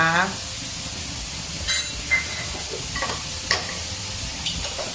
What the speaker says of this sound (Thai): พอผัดถั่วไปได้สักแป๊บนึงนะคะ